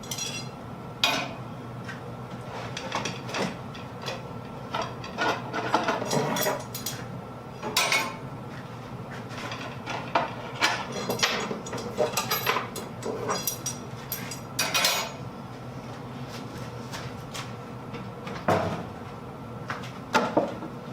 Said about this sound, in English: So we'll go ahead and take it out of the clamp.